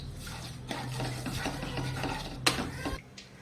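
Crushed cashews, chopped pistachios and pounded peanuts are mixed together for coconut naru. There is a soft, steady scraping and rubbing of the mix in a bowl, with a brief louder clatter near the end.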